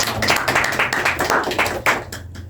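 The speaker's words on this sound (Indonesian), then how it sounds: "Beri tepuk tangan kepada Mbak Iqlil" A small classroom group claps briefly for a student during a microteaching poetry lesson, a short burst of uneven hand claps that fades out.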